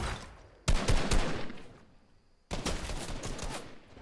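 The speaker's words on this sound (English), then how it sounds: "It's just a combat shotgun." Two loud bursts of combat shotgun fire in a Fortnite custom game, each sharp onset followed by a decaying rattle, separated by a short quiet gap.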